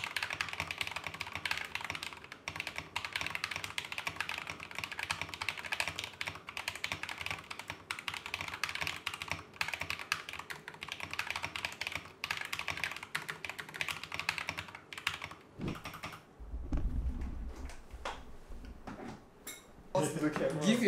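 Rapid, continuous clicking keystrokes from typing on a new, upgraded keyboard with Japanese legends, a dense clattering rhythm close up, ending with a few louder knocks and thumps.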